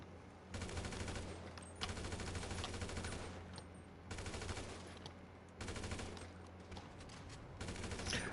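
An AK rifle in GTA 5 firing in long automatic bursts, four or five sustained volleys of rapid shots separated by short pauses, loud and close.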